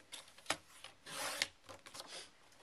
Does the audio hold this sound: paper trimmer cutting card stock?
yes